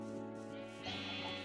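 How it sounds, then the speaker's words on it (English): Sheep bleating in Minecraft, a single drawn-out, wavering bleat heard clearly and close over a steady background hum. "I have a butt ton of sheep, I've been breeding them"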